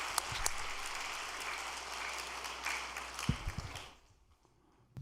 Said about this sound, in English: so let us offer him a great round of applause